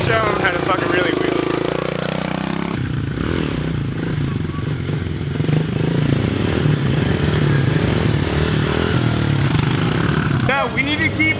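A pit bike's small engine revs and drones close by on rocky ground while the rider pulls a wheelie, with people talking over the engine noise.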